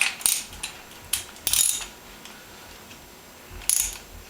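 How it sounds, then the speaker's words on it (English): A wrench ratchets as the top cap is unscrewed from a Honda Shadow Ace front fork, giving short bursts of close metallic clicking separated by pauses. "So the first thing we're going to do is take the top cap off of the fork."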